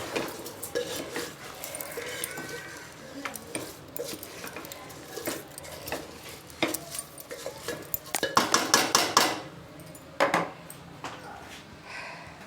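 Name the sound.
stirring rice into vegetable biryani in a pot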